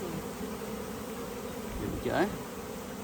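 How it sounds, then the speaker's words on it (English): A swarm of honey bees buzzes inside a box, a close, steady drone that keeps going throughout while a voice speaks briefly over it. "Then I'm going to grab these bees and just flick them in like this."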